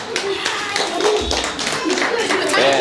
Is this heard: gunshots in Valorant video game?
no